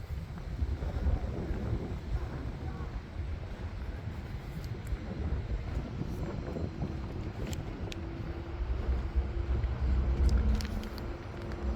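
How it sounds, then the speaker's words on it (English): Gusty morning wind in Norwich buffets the microphone steadily, a low rumbling roar with a few faint distant clicks, no voices. "It's a bit windy this morning."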